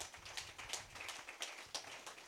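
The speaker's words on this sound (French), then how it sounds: "Donnez-lui une main d'acclamation" Congregation at a French-language church sermon clapping hands in acclamation, a scattered, fairly faint patter of claps with uneven rhythm over a few seconds.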